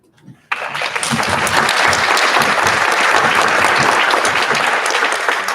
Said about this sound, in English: I expect all of that applause is for you and not me.